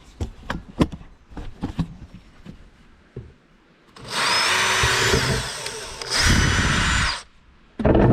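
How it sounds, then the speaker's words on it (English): Close, loud whir of a power drill running in two bursts, the second shorter, after some light knocking and handling noises. "I'm just going to go ahead and just drill a hole right in the middle."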